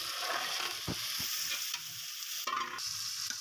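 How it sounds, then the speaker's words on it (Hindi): Black chickpeas are mixed in a pot with salt, mixed masala and tomatoes, producing a steady low sizzle with a few soft spoon scrapes and one brief clatter. "फिर इन सब चीज़ों को अच्छी तरह से मिक्स करूँगी।"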